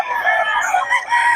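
At a busy poultry market in Bocaue, roosters crow and hens cluck together in a dense, close chorus with no pause for this short moment.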